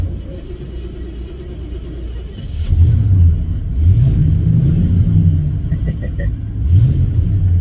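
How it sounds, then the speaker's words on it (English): A carbureted 1972 Oldsmobile Cutlass Supreme engine idles roughly, then revs up in a few swelling bursts, rising and falling pitch over a deep rumble, close by. "The joys of carbureted cars."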